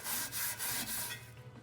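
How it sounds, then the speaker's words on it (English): A heavy scuff pad scrubbing a corroded aluminum alloy wheel near the tire seal, a steady rasping back-and-forth rub in rhythmic strokes, close and quiet, no talking. "I've got a heavy scuff pad here, and I'm just giving this area a good scrub down"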